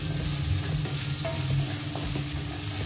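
Garlic and green chilies sizzle steadily in a hot kadai, a dense continuous frying hiss with occasional small pops and a faint stir or two, close and even throughout with no talking.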